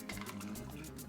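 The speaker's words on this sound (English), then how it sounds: "And 2 ounces of your fresh squeezed lime." Freshly squeezed lime juice pouring into a cocktail, a short, quiet, steady liquid stream filling a glass with soft trickling.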